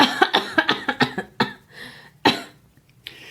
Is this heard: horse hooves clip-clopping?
no